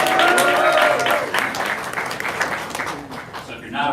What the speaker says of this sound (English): let's give another special round of applause